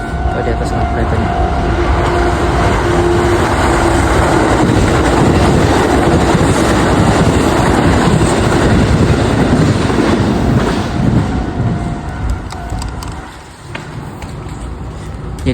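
A train rolls past close by in a steady, loud rumble with faint clattering, lasting about twelve seconds before easing off, while a voice talks over it.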